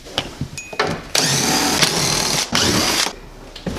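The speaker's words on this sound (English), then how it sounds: "it's one of these little cordless impact guns" Small cordless impact gun running in sustained bursts while removing car seat bolts during a Toyota Supra interior strip-out, loud and close, with short gaps and a final brief burst.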